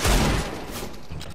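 A loud burst of gunfire in the Counter-Strike map Inferno, a close, heavy shot that rings out and fades, with a faint second pop near the end.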